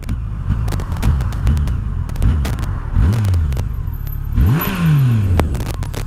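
Yamaha FJR 1300 AS touring motorcycle engine heard while riding, a steady close rumble with several rising and falling revs as it shifts and accelerates, with wind noise and clatter, no voices.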